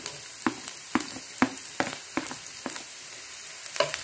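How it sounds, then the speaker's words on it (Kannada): Finely chopped garlic and ginger fry in two teaspoons of oil under a soft sizzle, with a spoon knocking and scraping the pan in separate taps about every half second; no voices. "ಇದಕ್ಕೆ ನಾನು ಸಣ್ಣಗೆ ಕಟ್ ಮಾಡಿ ಇಟ್ಕೊಂಡಿರೋಂಥ ಬೆಳ್ಳುಳ್ಳಿ ಹಾಕ್ಕೊಳ್ತಾ ಇದ್ದೀನಿ"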